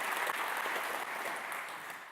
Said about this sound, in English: A round of applause for Steve